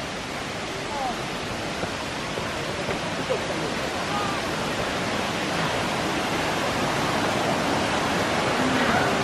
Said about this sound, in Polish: Teraz Wam pokażę tutaj początek tego wodospadu.